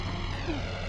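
Steady droning airplane engine hum in the Spider-Man 2: Enter: Electro PlayStation game, a continuous even tone at moderate loudness with no speech.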